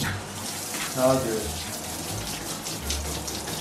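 A tap runs steadily into a bathtub during a husky puppy's first bath in a home bathroom, with a constant splashing flow and a voice speaking briefly over it.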